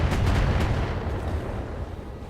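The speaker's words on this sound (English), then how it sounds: "There's more missiles than I would have given it credit for" Missile barrage explosions in the mech strategy game Battletech, a dense continuous rumble of overlapping blasts, loud at first and easing slightly toward the end.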